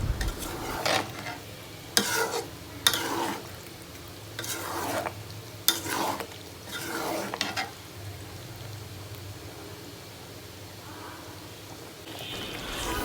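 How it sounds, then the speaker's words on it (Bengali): Raw mango pieces for pickle fry lightly in a pan, with vinegar just added. Repeated scraping stirs and soft sizzling come in uneven bursts, then settle into a quieter, steady hiss. "আমি আমগুলিকে বেশি ভাজা ভাজা করব না, হালকা হালকা ভেজে"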